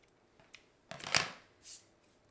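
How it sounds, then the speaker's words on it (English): Scissors trim the edges off a patterned paper card, a few soft, close snips and paper rustles, with one sharper cut in the middle and a fainter slide of paper after it. "So I'm just going to flip it over and cut those edges off."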